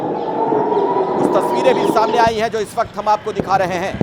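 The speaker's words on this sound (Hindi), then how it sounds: "लगातार सायरन की आवाज गूंज रही है पूरे इलाके में" An air raid siren wails steadily in the background during a Hezbollah rocket attack on Israel while someone speaks over it, his voice taking over as the wail fades.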